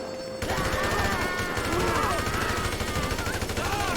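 Rapid bursts of gunfire in the GTA 5 video game, rattling steadily and loudly for several seconds after a brief quieter opening, with game sound layered underneath.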